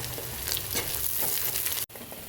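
Sliced onions sizzle in a hot pan with salt, green chilies, cloves, cardamom, cinnamon and bay leaf, a busy, crackling fry with light stirring scrapes, close and steady.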